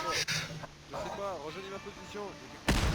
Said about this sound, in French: Il y a une explosion?